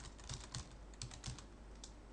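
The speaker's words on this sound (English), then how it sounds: "you can alternatively type in your own domain here" Quiet, close keystrokes on a computer keyboard, a handful of irregular clicks spread over about two seconds against faint background hum, with no talk.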